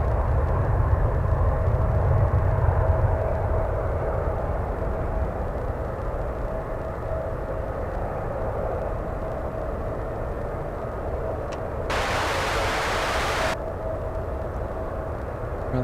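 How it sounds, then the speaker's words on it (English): A United Airlines Embraer E175 jet airliner passes at San Francisco airport, its engine roar a broad steady rumble that fills the whole stretch, loudest at the start, with a brief hiss burst near the end. "let's go and take a look at the little E175. There it goes."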